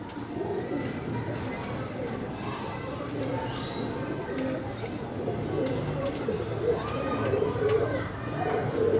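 A golden pigeon, a stocky mid-sized bird, coos softly amid a busy background of chatter and other birds, with steady ambient noise throughout.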